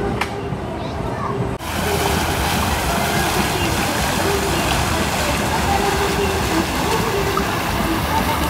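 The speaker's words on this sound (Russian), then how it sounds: "Яхточки шатаются, качаются на волнах." Small yachts rocking on sea waves at Simeiz in Crimea: a continuous wash of water and wind noise, loud and close, with voices faintly mixed in.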